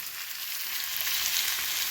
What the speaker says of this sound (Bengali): পালং শাকের চচ্চড়িটা বানানোর জন্য যে সবজিগুলি ভেজে নেব ভালো করে।